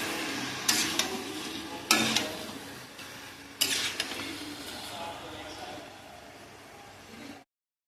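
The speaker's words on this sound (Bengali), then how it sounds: "এবার আমি এটাকে কষাতে থাকবো যতক্ষণ না আমার মশলাটা থেকে তেল ছাড়ছে।" Mutton stir-fried in oil left from frying onions, with three sharp scraping stirs against the pot over a steady sizzle that fades before cutting off. A voice talks throughout.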